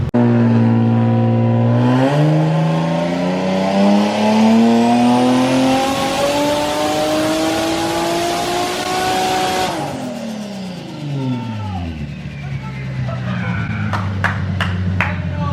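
Turbocharged Nissan 350Z on a dyno, engine revving up through a long loud pull as the pitch climbs steadily, then dropping off sharply with turbo whoosh and sputtering pops at the end.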